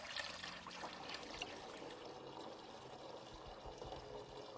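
Liquid mixture for a garden sprayer poured steadily through a sieve, a continuous close trickling and splashing stream that holds at an even level throughout.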